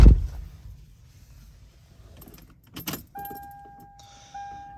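A 1996 Lexus LS400 is started with its key: a sharp jangle of keys at the start, faint cabin rustling, a brief crank around three seconds, then a steady chime tone as the car comes on, all close and fairly quiet.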